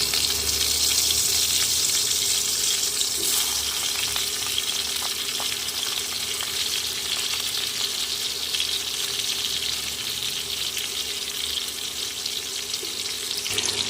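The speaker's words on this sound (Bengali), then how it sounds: "তেলের মধ্যেই আমি দিয়ে দেবো তেজপাতা শুকনো লঙ্কা এবং জিরে দিয়ে দেবো কেটে রাখা আলুগুলো" Potatoes, bay leaf, dried chilli and cumin frying in oil, a dense continuous hiss of frying with faint stirring taps, steady and fairly loud for the whole stretch.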